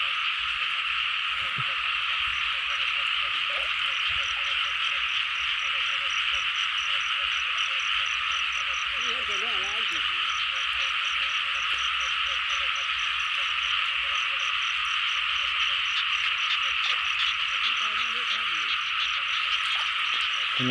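Small frogs croak at night in the rain, a dense continuous chorus of shrill trilling calls from many animals nearby, with faint voices of people hunting them mixed in underneath.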